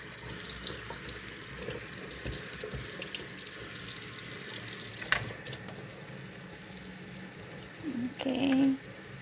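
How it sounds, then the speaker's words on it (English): Running tap water splashes over a phalaenopsis orchid and its leaves in a steady, soft stream, with a brief louder gush of flow near the end. "you just wet the leaves so that way the dust will be out, and water it"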